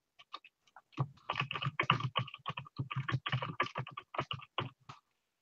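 Rapid keystrokes on a computer keyboard, a close, quiet patter of clicks in uneven bursts, briefly pausing near the start and stopping near the end.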